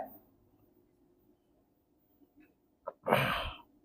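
A single sudden cough or sneeze-like burst comes close and fairly loud near the end, after a quiet room with faint breath sounds.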